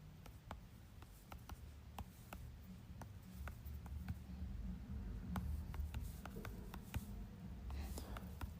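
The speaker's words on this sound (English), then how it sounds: "I'm sorry, I'm typing." Quiet keyboard typing: clusters of sharp, light clicks arrive in irregular bursts over a low steady hum, close and faint, with no voice over them.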